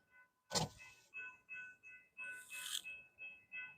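A car's electric window motor hums quietly in a series of short, evenly spaced bursts, with a louder rushing noise early on and midway, in winter in Ottumwa, Iowa.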